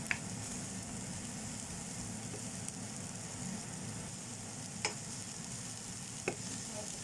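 Nam prik khi ka chili paste being stir-roasted in a pan gives a faint, steady dry sizzle and scraping hush, broken by a few soft clicks of the spatula against the pan.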